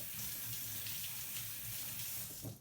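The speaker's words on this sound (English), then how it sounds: "Give my spoon a rinse." A tap runs steadily into a sink while a spoon is rinsed under it, a close, even gush of water with no speech.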